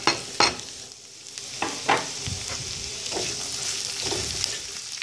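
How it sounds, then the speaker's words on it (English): Onions sizzling in hot oil with golden garlic, a steady fry broken by several sharp scrapes and stirs of a spoon through the pan, close and clear with no voices. "And we'll saute it till they are translucent."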